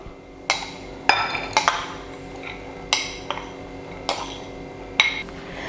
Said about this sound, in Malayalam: ഇനി ഈ ബൗളിലോട്ട് നമുക്ക് മാങ്ങ ഇട്ട് കൊടുക്കാം